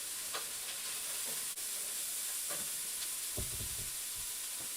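Celery sweating in a soup pot for chicken soup, giving a steady soft sizzle and hiss with occasional stirring scrapes and clinks, no talking.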